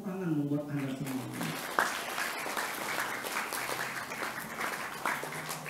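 Students at an Islamic boarding school in Indonesia applaud during a lively lecture, a sustained crowd of clapping that follows a brief spoken voice and continues evenly to the end.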